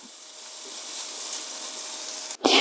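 Shrimp seasoned with salt and black pepper fry in oil in a pan, a steady close broadband sizzle that holds evenly for over two seconds before a brief clatter near the end; no talking.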